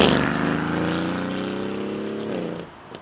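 Aston Martin Vantage sports car engine revving hard up toward 7,000 RPM, a loud, close, strained harmonic drone holding a high pitch before dropping sharply as the revs fall away at the end.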